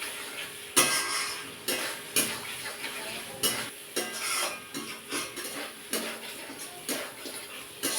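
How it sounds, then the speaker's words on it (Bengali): Kada fish being stirred and sautéed in a pan: a loud sizzle with rhythmic spatula scrapes and clanks against the pan, repeating about once a second, close and without talk. "মাছটা ভালো করে কষিয়ে নেব।"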